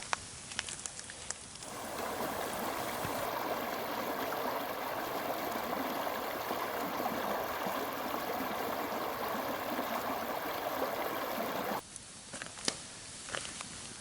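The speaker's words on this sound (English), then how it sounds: "Wait on some water to boil." A steady broadband rushing and bubbling of water boiling in a camp pot at a forest campsite, loud and close, running unbroken for about ten seconds with quieter moments at either end.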